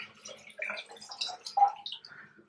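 Cold water tipped out of a water flosser reservoir, with small splashing, trickling and dripping sounds in a quiet room, faint and uneven.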